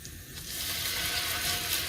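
Pieces of steak sizzling in a hot frying pan, a steady, loud crackling hiss filling the whole moment with no talking.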